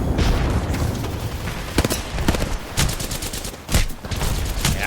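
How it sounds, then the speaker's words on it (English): A grenade blast amid rapid gunfire in a first-person shooter match, bursts of crackling shots and several sharp booming hits over a constant battle din, loud and close with no voices. "That grenade should do the trick."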